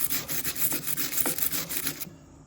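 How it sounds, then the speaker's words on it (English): Weld slag is scrubbed off a John Deere riding mower deck in quick, rhythmic rasping strokes that are close and moderately quiet, then stop abruptly near the end. "Getting some of the slag off there, clean it up a tad bit."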